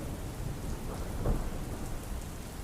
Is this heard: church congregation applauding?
no